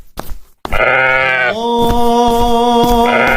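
A sheep meant for the Eid al-Adha sacrifice bleats loudly and close by in one long, sustained, wavering call that begins after a brief quiet moment and carries on to the end, with no talk over it.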